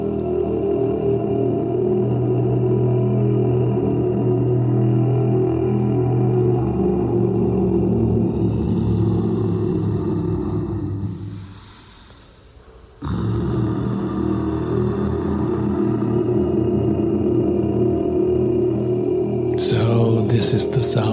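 Experimental vocal composition: dense, droning layered voices with sustained low tones, running on for long stretches, dropping out briefly near the middle, then resuming.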